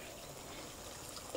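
Water is poured into a blender holding leftover ground sambal ingredients, giving a steady trickling, splashing wash at moderate volume, with a small knock near the end.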